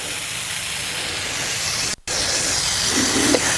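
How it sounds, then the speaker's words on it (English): A homeowner lawn care sprayer blasts across open ground with a loud, continuous hissing rush, briefly cut off for a split second midway before resuming just as strongly. "I'm actually standing in one spot and spraying, I don't know, 12, 13, 14 feet back behind here."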